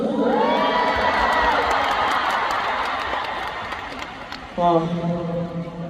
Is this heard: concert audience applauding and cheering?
yes